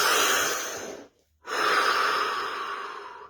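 Two loud, close breaths, a long inhale then a long exhale after a brief pause, during a scanning session with the instruction to stay completely still, with no talking.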